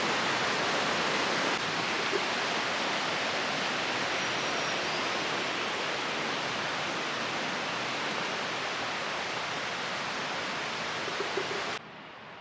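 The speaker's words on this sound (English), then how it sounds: "beautiful creek." Steady broadband rush of a creek flowing below an abandoned mountain vacation resort porch, continuous and fairly loud throughout with no voices, dropping off abruptly at the very end.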